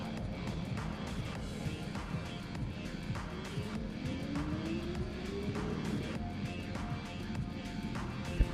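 A BMW S1000 RR and a Ducati V4 motorcycle drag race, their engines roaring steadily with a rising high-revving tone through the whole stretch, loud and sustained against crowd noise.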